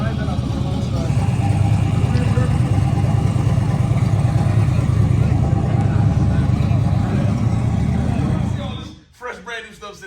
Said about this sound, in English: I'm hearing the engine and I see a guy driving up the one side.